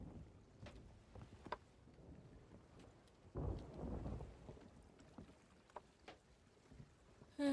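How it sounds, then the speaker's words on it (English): Stormy weather at sea in Sea of Thieves, with low rumbling thunder swelling in the middle, steady rain and wind noise throughout, and scattered creaks and splashes from the ship. "whenever I play Sea of Thieves, I keep getting spawned in the storm"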